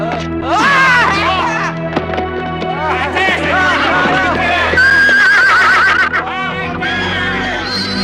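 A horse whinnies and neighs repeatedly over a dramatic scene, with high wavering calls, hoof clatter and a voice speaking alongside, loud and close throughout.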